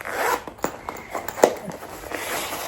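A zipper on a Gucci flap bag is pulled in quick, sharp runs, with a few distinct rasping strokes close to the ear and light handling noise between them.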